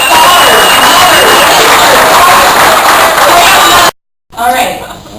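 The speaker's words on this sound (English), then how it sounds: "When I say equal pay for equal work, you're supposed to clap." Audience at a union convention claps and cheers loudly and continuously for about four seconds, then the noise cuts off abruptly, followed by a brief burst of sound that quickly fades.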